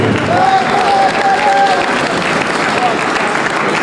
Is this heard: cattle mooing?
no